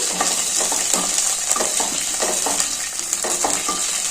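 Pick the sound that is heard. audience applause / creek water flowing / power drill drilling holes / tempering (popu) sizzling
tempering (popu) sizzling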